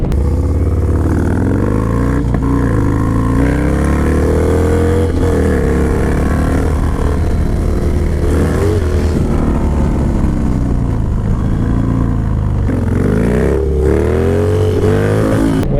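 A 2020 Indian Challenger V-twin motorcycle roars loudly and continuously while being ridden, its engine note rising and falling with throttle changes over steady rushing wind.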